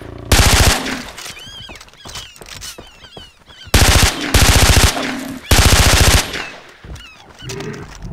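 Gunfire in the video game Far Cry 3: three loud, close bursts of rapid automatic fire, each about a second long, separated by quieter game ambience and creature noises.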